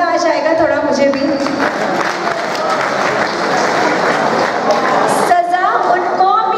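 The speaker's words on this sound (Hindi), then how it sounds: "अगर तालियां बजा देंगे अच्छे कलाम में तो मजा आ जाएगा" Audience applause at a poetry recital, a dense steady wash of clapping lasting several seconds with a brief lull near the end before more claps, loud and close throughout.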